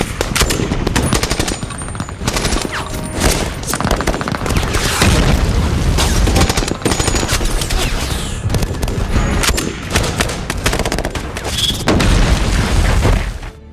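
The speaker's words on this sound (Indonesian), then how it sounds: "pasukan militan melempar bom Molotov ke area markas sehingga pertempuran sengit pun dimulai" A film battle at a CIA base erupts with dense machine-gun fire, booming blasts and scattered shots from militants throwing Molotov bombs, loud and chaotic throughout with no letup.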